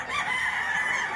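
Chickens at a live poultry market in Bukawi, where a rooster crows close by in one short, strained call.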